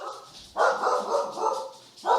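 An indoor dog lets out a few sharp, fairly close barks in quick succession, the loud bursts separated by short gaps, with no talking over them.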